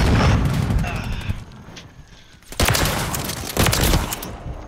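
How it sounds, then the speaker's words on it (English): Shotgun blasts in Call of Duty: Modern Warfare 3 boom out in loud bursts, a dense volley at the start and two sharp shots later, mixed with game noise while players talk over the action. "Ah, they're all using shotguns!"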